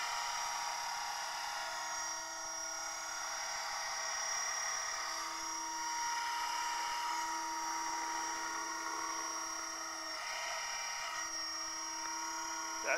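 HK500GT T-Rex clone RC helicopter in flight, a steady high-pitched rotor and motor whine that holds near and continuous throughout, with slight shifts in pitch as it hovers.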